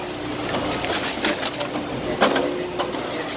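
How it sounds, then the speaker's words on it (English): A paper baler at a Bay Area recycling facility compresses paper with a steady, loud mechanical churn, broken by repeated clanks and crunching bursts. "this is called the baler, where it's all compressed"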